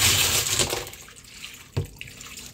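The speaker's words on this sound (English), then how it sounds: "Let's get this rinsed off a little more." Running water rinsing a batch of tumbled agate rocks, a broad close rushing splash that eases off, with one brief knock near the end and no talk.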